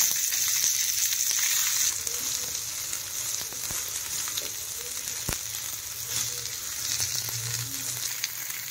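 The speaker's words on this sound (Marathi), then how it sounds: "कांदा आहे, दोन कांदे आहेत, हे कट करून घेतलेले, ते भाजून घ्यायचं आहे।" Two chopped onions fry in a pan for chole, giving a steady close sizzle with occasional stirring clinks, fairly quiet and with no talking.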